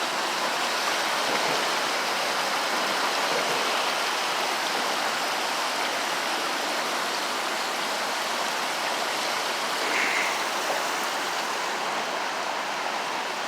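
Water pours out of a large water main break at Neponsit Circle, a constant loud hissing rush like a waterfall that stays unbroken throughout, with no voices.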